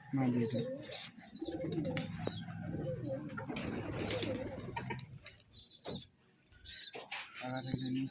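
Pigeons coo and warble close by, with wings flapping now and then and people talking over them in a few stretches.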